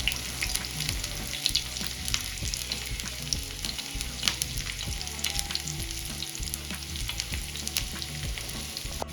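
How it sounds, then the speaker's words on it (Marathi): Chopped onion fries in hot oil for a Kolhapuri misal pav, a dense continuous sizzle with occasional stirring scrapes and clinks, close and steady throughout. "ऑइल आपलं छान गरम झालं या स्टेजला आपण कट केलेला कांदा ॲड करून घेऊया"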